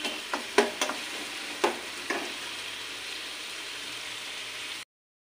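Onions for paneer bhurji sizzling steadily in a pan over a high gas flame, with a few sharp clacks of stirring near the start and then continuous frying hiss before it cuts off.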